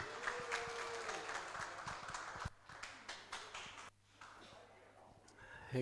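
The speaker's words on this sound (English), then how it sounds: "Give him a round of applause, ladies and gentlemen." Audience applause welcoming Kevin to the podium at a new property launch event, broad clapping with some cheering that dips and swells, with a brief lull partway through.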